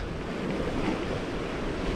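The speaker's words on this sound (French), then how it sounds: "Carrément trop de vent là" Strong, steady wind blowing across a seashore during lure fishing for sea bass, with a constant broadband roar of gusts and surf and buffeting on the microphone, loud and unbroken throughout.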